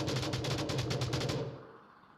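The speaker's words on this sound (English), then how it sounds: "And while gunshots ringing out" Rapid automatic gunfire from the VR shooter Onward rattles in a fast, even burst of about a dozen shots, then cuts off and fades into a short echoing tail.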